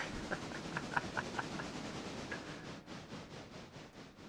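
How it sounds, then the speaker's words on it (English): A locomotive in a train simulation game rolls slowly into a rail yard, with faint rhythmic clicking of wheels and a few soft metallic pings under a low background rumble, distant and quiet. "as our locomotive moonwalks into the yard"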